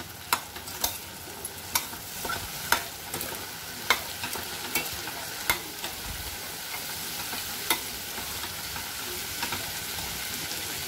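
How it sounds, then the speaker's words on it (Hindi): Spices being stirred into a potato and cluster bean curry in a pan, with a low continuous sizzle and repeated sharp clicks and scrapes of a spoon against the pan spread across the stretch, close and fairly quiet, no voices. "अब मसाले को अब हम मिला देंगे"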